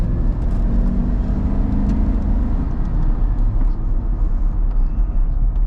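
A 1998 Chevy Tahoe 4x4 with 97k miles drives along a road, heard from inside the cabin as a steady low engine and road rumble with slight swells of acceleration and no talk.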